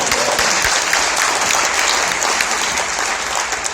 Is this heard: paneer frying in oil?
no